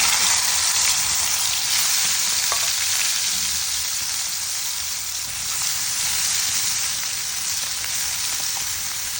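Fish sizzles and fries steadily in a hot pan, a loud continuous crackling hiss with faint bubbling pops throughout and no voices.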